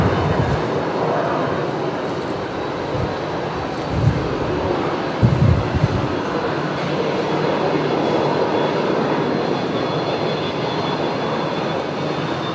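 A Qantas A380 airliner taxis toward the runway at Brisbane Airport, a steady broad engine rumble and whine held at moderate distance throughout, with a faint high tone above and a couple of brief low thumps midway.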